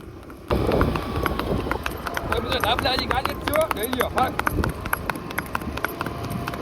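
A mare's hooves clip-clop rhythmically on a ride, a quick steady beat of hoof strikes close by, with people talking over them.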